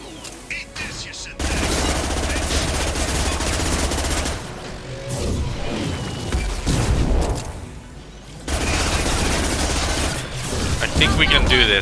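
Heavy automatic gunfire and booming weapon blasts fill a Mass Effect Legendary Edition firefight against Collector forces. The sustained loud bursts break briefly and then resume, with a player's voice talking faintly underneath.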